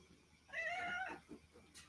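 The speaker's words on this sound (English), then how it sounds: "You're meowing?" A pet cat meows indoors in one clear, drawn-out whining call, followed by a softer short sound; it is close and alone, with no talk over it.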